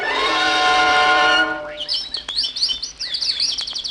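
A sustained tonal note gives way to a flurry of baby birds chirping on a 1949 Snow White record, quick high tweets overlapping in bursts, close and fairly loud.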